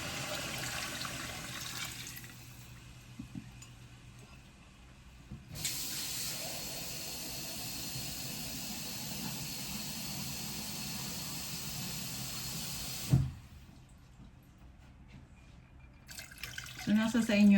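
Water pours into a pot of chicken tinola as a steady, loud rushing stream lasting several seconds, with quieter kitchen sounds before and after.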